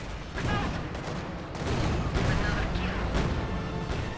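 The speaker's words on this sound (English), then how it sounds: "Artillery flare going down." Artillery fire in Company of Heroes 2, a dense wash of booming shell impacts and rolling gunfire that runs through the whole stretch, heard beneath a caster's voice.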